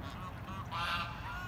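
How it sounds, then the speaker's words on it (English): Geese honking in a city park, a noisy flock heard at a distance over steady background rumble, with the honks swelling louder partway through. "the geese are just so noisy"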